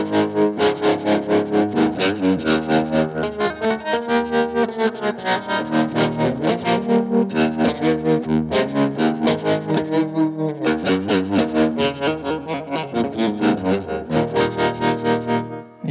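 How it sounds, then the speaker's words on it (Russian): Distorted electric guitar playing chords through a Yamaha THR30II Wireless amp, its sound pulsing rapidly in volume with a steady tremolo throb, loud and continuous throughout. "Попробуем добавить эффект тремоло,"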